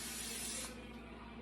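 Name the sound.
olive oil cooking spray being sprayed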